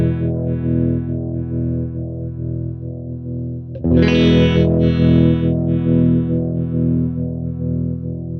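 Guitar through a Spaceman Delta II harmonic tremolo pedal, a sustained pulsing tone that brightens sharply halfway as the resonance is raised and swept, with no talking over it.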